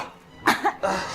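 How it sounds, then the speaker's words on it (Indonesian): A person coughs a few times in quick, close bursts during an Indonesian TV drama scene, with a short pause between the first pair of coughs and the last one. "kamu berisik banget sih pakai batuk-batuk"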